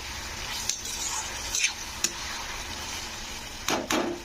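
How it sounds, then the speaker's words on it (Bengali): A few light, scattered scrapes of a spoon stirring chilli chicken sauce in a pan, set against a faint steady background hiss, with a slightly louder pair of strokes near the end. "সসটা দিয়ে এটাকে একটু হালকাভাবে নাড়তে হবে"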